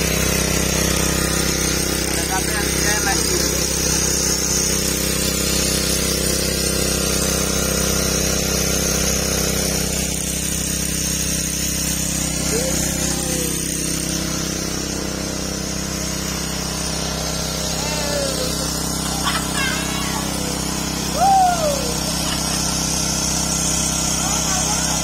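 A power drill bores a well, giving a continuous droning motor hum that stays steady and fairly loud for the whole stretch, with faint voices in the background.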